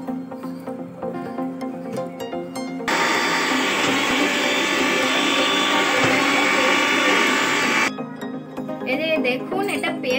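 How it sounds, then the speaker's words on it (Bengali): An electric kitchen mixer grinds drained soybeans into a paste for soybean kofta, a loud, steady whirring roar of about five seconds, with a person talking before and after it. "জল ঝরিয়ে রাখা সোয়াবিনগুলোকে আগে মিক্সারে দিয়ে সেটাকে পেস্ট করে নেব"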